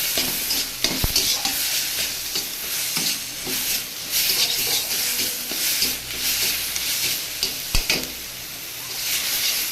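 Red amaranth leaves cooked down in a pan are stirred with a spatula, giving a steady close frying hiss broken by scraping strokes and a couple of sharp clinks against the metal.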